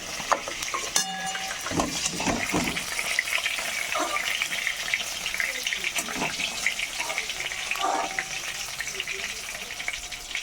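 Tangra fish fry in hot oil in a pan with a loud, continuous sizzle, broken by occasional stirring and scraping clatter.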